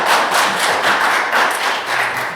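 An audience at a town board meeting in Farmville, North Carolina claps in a brief, dense round of applause, close and fairly loud, with no talking over it.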